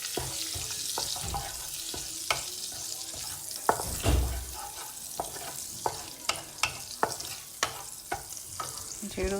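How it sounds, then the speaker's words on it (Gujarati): Cumin seeds fry in butter and oil with a crackling sizzle, broken by sharp clinks of a spoon stirring against the pan and a brief rush of water partway through. "જીરું સતરાય છે"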